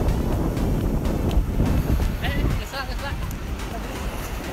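Strong wind buffets the microphone on a beach near the surf, a steady loud rumble that eases slightly partway through, with a few faint high whistles and brief voices over it.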